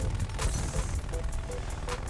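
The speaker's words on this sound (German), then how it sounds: "Wo kamen die Schüsse her?" Gunshots in the video game Call of Duty: Black Ops Cold War, scattered sharp bursts of fire popping up now and then beneath a voice talking over steady game noise.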